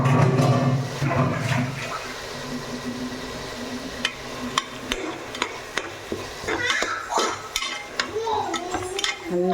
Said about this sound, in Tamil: அந்த எறாவையும் இதில் போட்டு வதக்கலாம்.